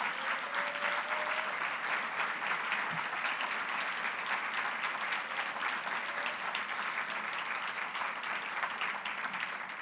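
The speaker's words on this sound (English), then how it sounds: "we need to give them some applause to say thank you" Sustained applause from an audience at an Iowa State Educators Association event, dense steady clapping filling the hall at a constant level throughout.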